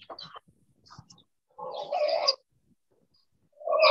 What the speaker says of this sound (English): These are local chicken.